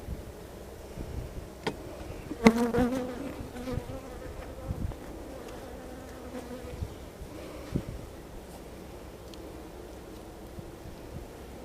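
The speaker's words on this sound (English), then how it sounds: "There's a bunch of bees in here." Steady low buzzing of many bees hovering close by, with a brief louder hum passing near at one point and light rustling underneath.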